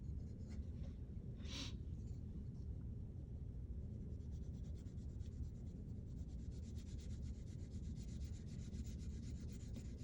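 Soft, continuous 4B graphite pencil rubbing against paper, a steady scratchy whisper of shading strokes, close and quiet with no talking.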